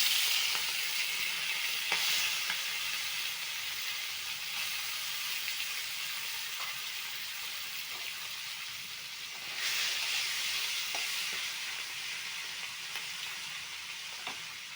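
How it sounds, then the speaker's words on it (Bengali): Small fish fry in oil in a kadai with a continuous broad sizzling hiss. It swells briefly partway through and carries scattered faint pops, close and steady, with no talk. "আমি এখন ছোট মাছগুলো ভেজে নিচ্ছি কড়াতে।"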